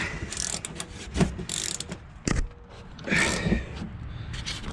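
Clicking ratchet mechanism of an open-ended ratcheting wrench loosening the three 15 mm upper strut nuts on a 2016 RAM 1500 4x4, heard as several close, short bursts of mechanical ticking with pauses between turns.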